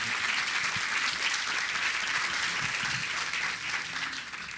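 An audience at a panel discussion on migration in Brazil applauds steadily, a dense, sustained wash of clapping that fades slightly at the end, with no speech over it.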